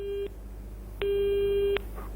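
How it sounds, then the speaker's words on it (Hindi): A telephone busy tone sounds after a caller's line drops during a live phone-in broadcast: a short tone, a gap, then a longer steady tone, clear and alone over low background hum. "नरेंद्र का शायद फोन कट हो गया है"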